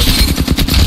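Rapid automatic gunfire in Apex Legends, a loud, dense burst of shots crowding the foreground.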